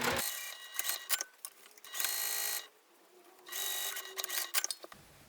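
A sewing machine stitching a fabric pouch, running in short rattling bursts separated by pauses and small clicks, with two longer steady stitching runs.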